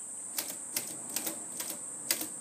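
Keys of a Hermes Baby portable typewriter under repair strike one at a time, six or so crisp, evenly spaced clacks with a steady high ring behind them, close and fairly quiet, no voices.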